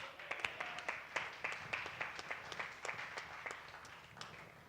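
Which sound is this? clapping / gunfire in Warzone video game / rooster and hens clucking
clapping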